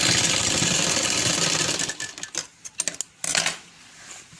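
Sewing machine stitching the middle section of a sharara skirt, a fast mechanical whir that stops and restarts in short uneven bursts before fading out.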